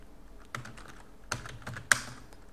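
Keystrokes on a computer keyboard while working in Microsoft Excel, a few sharp separate taps with quiet gaps between them, close and fairly soft, with no talking.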